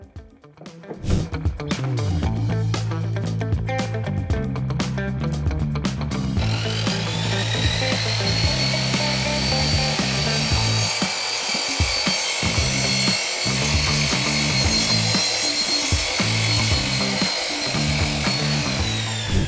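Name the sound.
saw cutting wooden board to length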